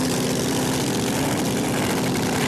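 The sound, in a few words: supercharged Hemi and Big Block drag racing engines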